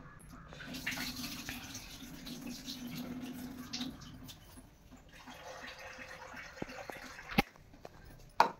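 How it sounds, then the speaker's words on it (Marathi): Water poured from a tap or vessel over sabudana to soak it, a soft splashing trickle for several seconds, then quieter running water and a couple of sharp clinks of a utensil at the end. "तर मी आता साबुदाणा भिजायला घालते।"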